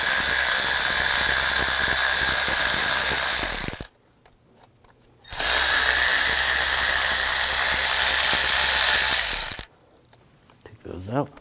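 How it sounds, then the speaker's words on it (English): A T30 socket on a ratchet or driver spins out cover screws on a 2001-2009 Volvo S60 engine, two long, loud, close whirring runs of about four seconds each separated by a short quiet pause. "take these two screws out"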